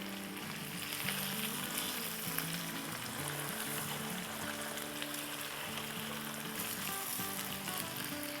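Karahi chicken fries in a pan over a medium-high flame, a soft, continuous crackling sizzle that holds steady throughout with a faint low hum underneath and no talking.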